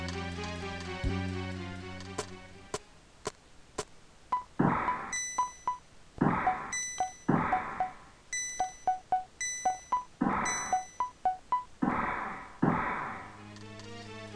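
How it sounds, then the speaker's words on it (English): Chiming prayer bell sequence from the Super Nintendo role-playing game Breath of Fire II: clear, bright tonal strikes in a rhythmic pattern, ringing alone over quiet game music with no talk. "We ring this bell when it's time for prayer."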